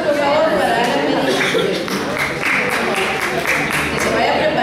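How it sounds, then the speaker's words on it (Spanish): Sustained audience applause with scattered clapping and crowd chatter at an awards event for children and young people, filling the room at a loud, even level. "Fuertes aplausos, por favor, para Andy Medina."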